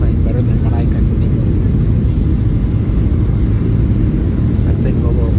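Steady, loud airliner cabin roar from the engines and airflow during the descent into Chicago on a winter flight from Salt Lake City, a continuous broadband rumble with no talk.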